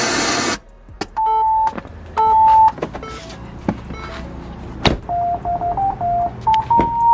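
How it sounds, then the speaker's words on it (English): A loud, brief burst of pink noise hisses from Kicker KS Series 6-inch component speakers inside a Ford with a big sunroof. It cuts off quickly and a string of electronic beeps and chimes follows. "play some pink noise"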